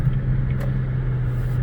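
A 2020 Chevrolet Impala LT V6 sedan on the move, heard from inside as a loud, steady low engine and road drone with a faint click or two.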